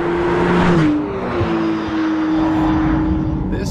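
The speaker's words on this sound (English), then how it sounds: "track powertrain comfort chassis. They've moved the adjusters up on the binnacle here. You can hit them with your fingers, and now we can go quickly." A McLaren Artura accelerates in track mode, its engine droning loud and close from inside the cabin with a steady rising tone and a brief dip as it shifts.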